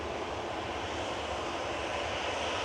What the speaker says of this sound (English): The EasyJet A321 coming in, the A321 Neo.